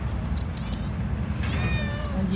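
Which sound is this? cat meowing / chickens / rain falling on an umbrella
cat meowing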